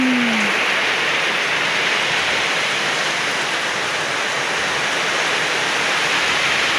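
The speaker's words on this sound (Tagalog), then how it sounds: "Lakas ng ulan." Heavy rain pours down with strong wind in a steady, dense hiss with no breaks, loud and close, with no voices.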